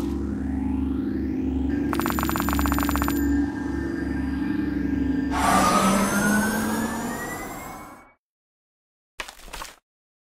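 A video game in the Kick The Buddy style with a cartoon ambulance scene: a loud, continuous wailing siren over engine rumble, ringing electronic tones, then a rising rush that cuts to silence, and a brief burst at the end.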